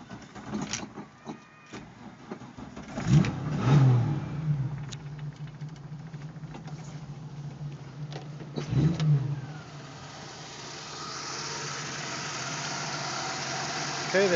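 A Holden HR ute's 186 red motor cranks over in bursts and then settles into a steady idle, heard close, with some talking in the background.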